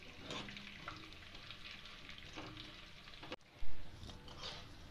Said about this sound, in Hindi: और इसमें फिर से मैं वही प्रोसेस से गोंद को फिर डालूंगी, और थोड़ा थोड़ा करके इसे भूनेंगे।